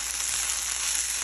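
Thin beetroot slices fry in a pan with onion, dried red chili and black cumin, giving a steady, close, even sizzle with no pauses.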